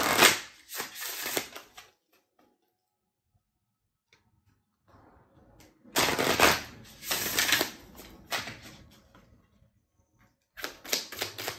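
Tarot cards shuffled in quick, riffling flurries of close papery flicks and taps, separated by near-silent pauses.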